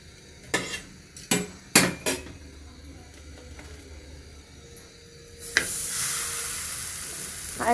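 Frozen paratha on a hot tawa: several sharp clanks of utensils against the pan, a quiet stretch, then a loud steady sizzle as it starts frying, close by with no talking.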